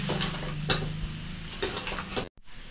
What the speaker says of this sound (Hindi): सारे मसाले को अच्छी तरीके से मिक्स कर लेते हैं।